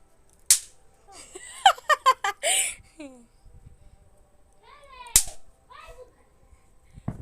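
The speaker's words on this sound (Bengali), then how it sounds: "এইভাবে আছাড় দিলেই ফটফট করে ফাটবে" Snap firecrackers thrown on the ground burst in sharp, loud single cracks, one near the start and another midway, with children's voices chattering between the pops.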